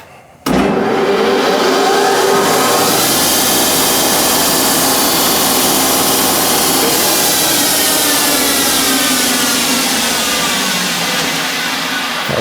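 A lathe spins a homemade toolpost grinder spindle body at 2400 RPM, starting abruptly and then running as a loud, continuous whirring roar with a high mechanical whine that stays close and steady throughout.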